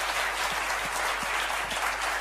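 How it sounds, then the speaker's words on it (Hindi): An audience at a seminar or motivational event clapping hard, a dense, steady wash of many hands with no break, heard alone without talk. "जबरदस्त तालियां, जोरदार, जितनी ताकत है उतनी ताकत लगा के ताली बजाओ।"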